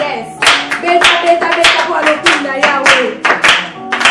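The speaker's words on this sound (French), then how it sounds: "On acclame très fort." Church congregation applauding loudly, a dense, steady run of clapping with sharp rhythmic peaks throughout, plus faint voices mixed in.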